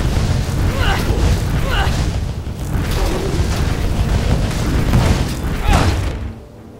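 Loud, dense bursts of fire-spell explosions from the Firestorm spell in Path of Exile, with repeated booming impacts rolling continuously before cutting off abruptly near the end.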